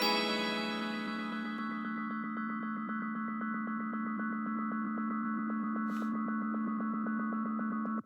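A melody runs through an Echo delay plugin with feedback above 100%, building into a dense, sustained ringing drone with rapid pulsing repeats that holds steady and cuts off abruptly.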